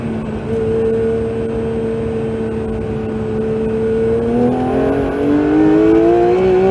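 A Porsche 911 GT3 (992) on the Castellet circuit accelerates under full throttle, its engine note rising steadily and loudly in pitch through the gear, close and continuous.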